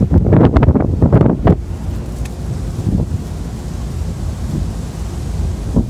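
Wind blowing through tropical palm trees in Florida, a loud, steady rushing roar with heavy gusts at the start that settle into a continuous broad hiss.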